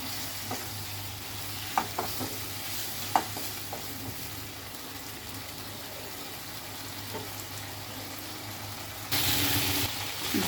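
Spice paste of cumin, ginger and ground spices frying in a pan for pabda fish curry with raw pumpkin, a quiet steady sizzle with a few sharp spoon scrapes and knocks, then a louder burst of sizzling near the end.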